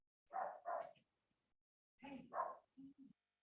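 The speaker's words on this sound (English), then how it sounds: "Is that your ferocious dog, John?" A dog barks during a small-town selectboard meeting: two quick barks, a pause, a second pair of louder barks, then two short low yips, fairly close and alone without talk.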